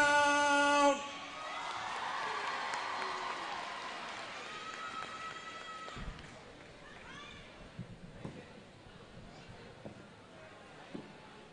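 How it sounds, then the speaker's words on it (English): Audience applause at a high school fall homecoming pep assembly, a broad steady wash of clapping from a large crowd that swells early and then thins out to scattered claps and murmuring. "let's give them a round of applause"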